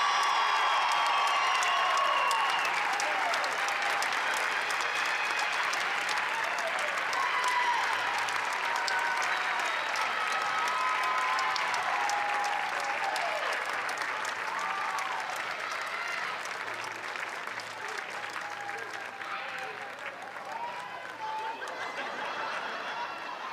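A softball stadium crowd at the ACC Softball Championship game between Virginia Tech and Florida State applauds an MVP award presentation, a long, steady, somewhat distant roar of clapping mixed with scattered cheers and whistles that eases slightly toward the end.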